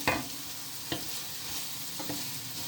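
Onions frying in a pan for South African hot dogs, a steady close sizzle with a few sharp stirring scrapes and clicks scattered through.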